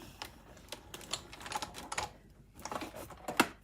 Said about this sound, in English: Crunching and cracking noises are normal. It's cutting the paper.